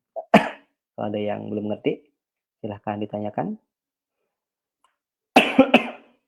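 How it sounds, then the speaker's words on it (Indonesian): A sharp cough breaks in at the start and another near the end, with a person speaking calmly in between. "Maaf, batuk."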